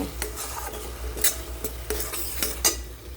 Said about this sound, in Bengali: এটা দিয়ে একটু নেড়ে চেড়ে একটু কষিয়ে নেব